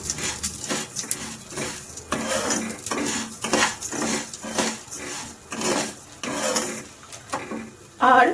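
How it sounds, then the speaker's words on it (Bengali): Ghee-coated vegetables being stirred in a pan, giving repeated scraping and clinking of a utensil against the metal in an uneven rhythm, close up and fairly loud, with no voices. "ঘি দিয়ে একটু নাড়াচাড়া করে নেব"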